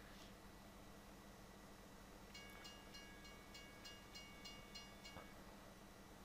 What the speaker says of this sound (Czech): dojdete k páčce, spustíte vlak, on odjede a napočte vám to peníze.